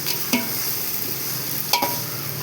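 Vegetables for a wedding-style vegetable biryani sauté until golden in a pan, with a steady sizzle and two sharp scraping stirs spaced well apart, and nobody talking.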